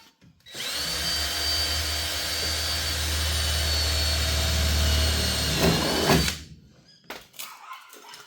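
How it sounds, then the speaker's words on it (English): A power tool drills and pop-rivets a metal bar onto a plastic race-car panel during damage repairs, a loud steady whine running about five seconds before cutting off, followed by a few faint knocks and clicks. "We'll just bolt it on and pop rivet it on."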